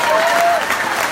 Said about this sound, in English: let's get another round of applause for Kai Hayes